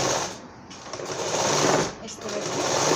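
A sewing machine runs steadily, stitching piping onto a designer blouse, its continuous whirring motor dipping briefly twice and then resuming at a close, even level.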